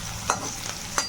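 Onions fry in a kitchen pan with a soft background sizzle, broken by two distinct metallic scrapes of stirring about half a second apart, close and moderately loud, no talking.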